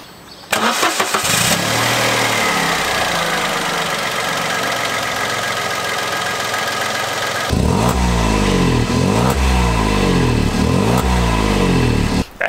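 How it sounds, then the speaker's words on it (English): A three-cylinder, 65-horsepower car engine cranks and catches, then runs at a rough, throbbing idle before revving up into a louder, pulsing roar, close and alone. "Let's hear how she sounds."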